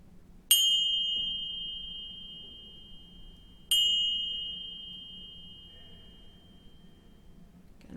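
Two bright metallic finger cymbal chimes ring out a few seconds apart, each struck once and left to shimmer and fade slowly in a quiet room.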